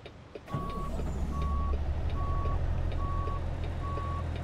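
Truck reversing alarm in American Truck Simulator beeping five times at an even, steady pace over a constant low diesel engine idle that starts up just before the beeps, with no voices.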